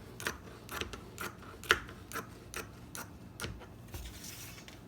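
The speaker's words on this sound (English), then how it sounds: "So let's cut this out at 9" Scissors cut fabric for a sewn face mask, a 9 by 14 piece, in a quiet room: a steady run of crisp snips about every half second, close and fairly faint.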